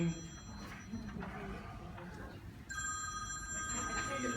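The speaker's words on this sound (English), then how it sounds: "My phone will stop ringing." An office telephone rings in repeated electronic trills, clear and fairly close, with speech heard faintly alongside and the ringing growing brighter and more sustained toward the end.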